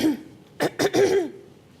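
A few harsh coughs in quick succession, close and fairly loud, with a brief throat-clearing sound before them.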